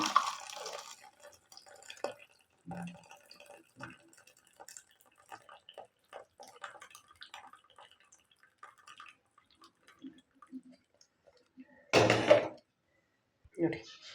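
Cooking water drained off boiled beans and bottle gourd in a home kitchen: intermittent pouring, dripping and splashing with small clanks of pots, ending in a louder splashing burst near the end, with some talking.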